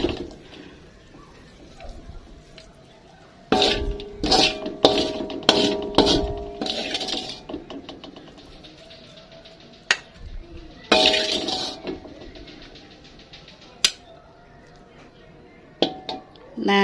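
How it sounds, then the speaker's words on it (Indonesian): Clinks and scrapes of utensils against dishes in scattered bursts as fried shrimp paste (terasi goreng) is served onto a plate, some clattery moments, with quiet stretches between and occasional talk. "Langsung aja saya mau taruh ke piring teman-teman."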